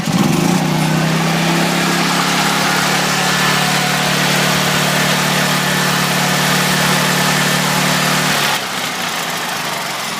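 A Duramax XP10000E generator runs on propane, starting with a quick burst and then holding a loud, steady engine drone with a low hum for about eight seconds before the pitch drops as it settles.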